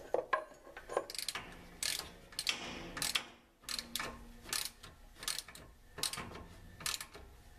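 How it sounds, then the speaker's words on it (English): Ratchet wrench clicking in quick repeated bursts while tightening the bolts on a rear air spring, the pawl ratcheting loudly and close with short pauses between strokes. "always make sure your wrench is going the right way."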